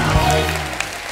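Studio audience applauding to welcome a Nigerian Afrobeat star onto a comedy talk show stage, a brief loud burst of clapping under steady music with no speech.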